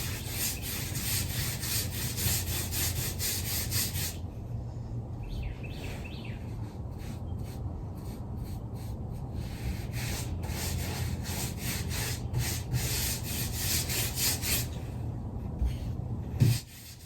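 Steady brush strokes of a first coat of white paint on wooden stair balusters in a frugal DIY shack renovation, a continuous soft rubbing swish that runs on and off, close and even, with faint birds chirping in the background.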